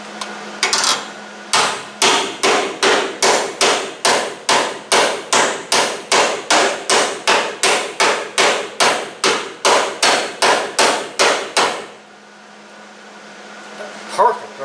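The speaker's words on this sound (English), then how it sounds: "That's why I like this hammer." Steady series of about twenty sharp hammer blows on metal, struck in a fast even rhythm while welding the frame of a 1970 Cougar, loud and close, ending in a low shop hum.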